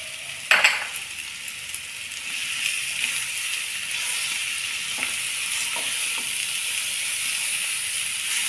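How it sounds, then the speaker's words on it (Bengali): Sweet potato frying in a pan with homemade khoa and grated coconut, a steady close sizzle with a few stirring scrapes and clicks. "এখন আমি একটু আলুটা হালকা করে ভেজে নেব।"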